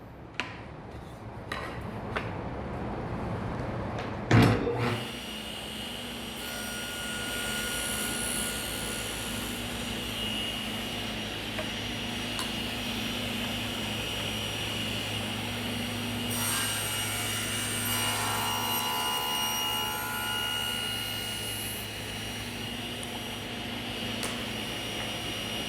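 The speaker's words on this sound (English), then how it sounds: "I'm going to cut the handle to 8 inches" Hand saw cutting a wooden handle to length for a homemade try square, a steady rasping stroke running continuously for about twenty seconds after a sharp knock near the start.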